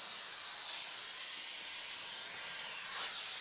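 A steam cleaner works over the interior of a Volkswagen Golf R, giving off a steady, close, bright hiss of escaping steam that barely changes throughout.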